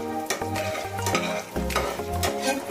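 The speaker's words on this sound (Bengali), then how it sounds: "একটু নেড়ে দেবো, বেশি নাড়ার দরকার নেই।" Cardamom, cinnamon and cloves fry in hot oil with reddened garlic for a chicken stew. A close, steady sizzle is broken by repeated rhythmic stirring scrapes, with no voices.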